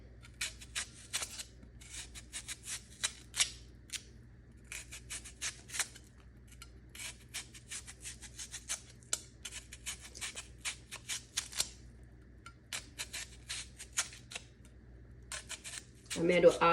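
A knife chops half an onion on a cutting board for corned beef and cabbage, quick bursts of crisp close cuts and taps in uneven rhythm, with a low hum beneath.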